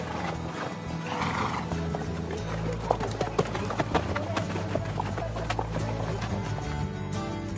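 A group of horses walks at an easy pace with riders on a long trek through the Rhône delta toward Saintes-Maries-de-la-Mer. Steady clip-clopping hooves sound under a loud French narration, with a brief whinny near the start.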